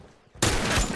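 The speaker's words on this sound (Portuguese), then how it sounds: "Pelo menos eu meti um tiro nele." A burst of gunfire from a shooting video game erupts suddenly after a quiet moment, a loud, dense rattle of rapid shots.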